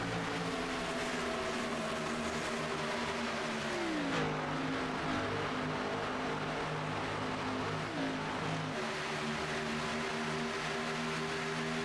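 Race car engines drone continuously during an Apex Racing Cup Series race at Auto Club Speedway. The tone is steady and buzzy, its pitch dipping and climbing as the cars shift and lift, with no talk.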